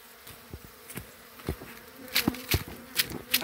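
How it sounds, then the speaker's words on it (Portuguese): Honey bees buzzing around an open hive while honey is taken out, a steady droning hum with sharper buzzes as single bees pass close by. "Olha as abelhas, tá fazendo um barulho."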